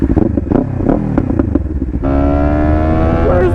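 A Kawasaki Ninja 500 sport bike is ridden close up. It opens with choppy, pulsing engine bursts and clatter, then settles into a loud, steady, high-revving drone under acceleration for the last second and a half.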